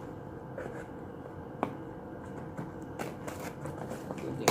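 Scissors snipping through a diecast model's package, a series of short sharp cuts and crinkling plastic at close range, irregular in rhythm and getting busier toward the end.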